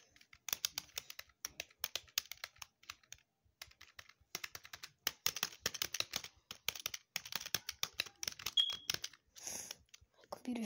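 Computer keyboard keys pressed rapidly while playing the rhythm game Funky Friday, a dense run of quiet clicking taps in bursts with short pauses, close but faint.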